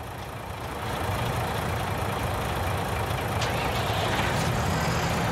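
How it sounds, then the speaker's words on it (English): A vehicle engine in a farming video game runs steadily while a manure tank fills, a continuous low drone that swells at the start and then holds level. "And the engine needs to be on to fill it."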